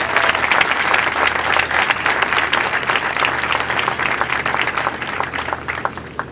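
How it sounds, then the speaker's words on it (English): A crowd claps at a ribbon-cutting and building dedication ceremony, dense sustained applause from many hands that stays loud throughout and eases slightly toward the end. "So let's all give a round of applause that can be heard up in heaven."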